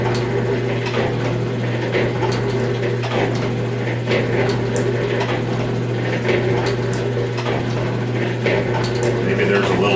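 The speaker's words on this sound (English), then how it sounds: "If I hold on to the lead screw, it seems to want to ratchet." Mechanical clatter from an 1889 G&E shaper with a worn lead screw ratcheting, a steady motor hum underneath irregular ticks and clicks, loud and close throughout.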